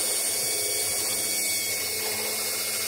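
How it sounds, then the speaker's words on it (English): A power drill bores a hole into a plastic rain barrel, giving a steady, continuous whine at close range that holds without a break, with no talk. "take a drill and just drill a hole inside the rectangle."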